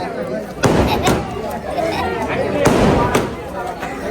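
Sharp firecracker bangs burst several times in quick, irregular succession against loud background chatter and crowd noise at a wedding celebration.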